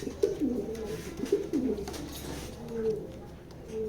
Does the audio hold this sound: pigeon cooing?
yes